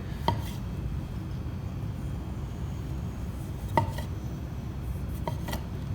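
Cherry tomatoes and other ingredients for a Thai green papaya salad are smashed with a few sharp, widely spaced knocks of about three to four strikes, close and fairly quiet over a low background hum.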